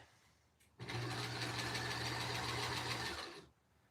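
A sewing machine stitches a puppet in one continuous, fast, buzzing run of about two and a half seconds, close and loud, starting abruptly and winding down at the end.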